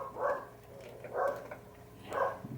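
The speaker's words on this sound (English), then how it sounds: "Dogs are barking." Dogs barking at a distance, three separate barks spaced about a second apart, muffled and moderately faint over a low background hum.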